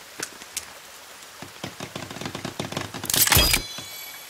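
Rain falls in the survival video game The Forest, sparse crackling drops and ticks building into a denser patter with a brief louder burst near the end.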